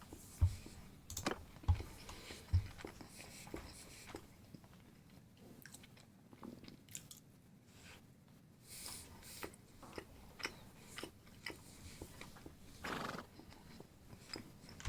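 Cavalry horses in the video game Mount & Blade II: Bannerlord neigh and whinny at a distance during a battle, with faint chewing and hoof clops, fairly quiet overall.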